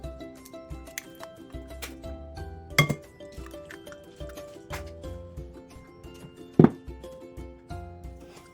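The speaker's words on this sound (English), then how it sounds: "To start, we will beat 4 eggs into a bowl" Four eggs beaten in a bowl for a chocolate berry cake make quick, light, rhythmic clinks and taps that come up close and stay fairly quiet, broken by two sharper knocks against the bowl along the way.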